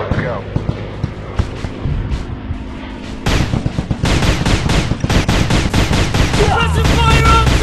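Rapid bursts of gunfire in an Android robot first-person shooter game, repeated shots and automatic volleys growing denser and louder midway, mixed with explosive booms and game effects, with voices over the action.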